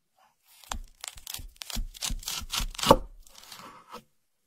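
Crisp crunching of a knife cutting through a cabbage in AI-generated ASMR, a rapid series of about a dozen close, sharp slices and cracks in near silence.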